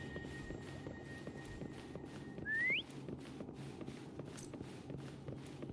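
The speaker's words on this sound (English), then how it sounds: "Try whistling." A single rising whistle from a character in the video game Wuthering Waves rings out clearly over steady game ambience and soft rhythmic footstep-like clopping.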